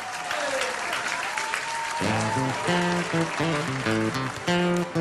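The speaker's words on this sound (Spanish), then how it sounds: "Fuerte el aplauso" Studio audience applause on a TV variety show, a dense burst of clapping that continues after music with a clear melody enters halfway through and plays over it.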